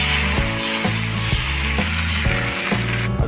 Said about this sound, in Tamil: இப்போ நம்ம தக்காளி தோசையை ஊற்றிக்கலாம்.